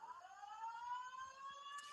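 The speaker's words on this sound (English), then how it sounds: "This alarm just gets louder and louder." An electronic alarm sounds in a live sports talk radio studio: steady, high-pitched layered tones that drone on without a break and swell slightly, with no voices over it.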